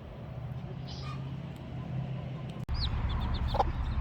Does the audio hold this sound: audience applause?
no